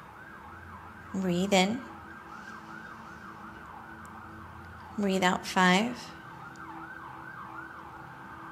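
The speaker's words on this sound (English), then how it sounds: "Sorry about the siren." Emergency vehicle siren passing outside during a yoga class, a steady wailing tone rising and falling in repeated cycles at moderate distance, with a calm instructor's voice counting breaths over it in two short bursts.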